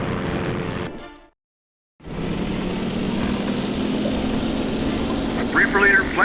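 WW2 aircraft engines droning as planes launch from an escort carrier deck in the game Damage Inc. Pacific Squadrons, a steady loud propeller hum that cuts out briefly and returns, with a radio voice over it near the end.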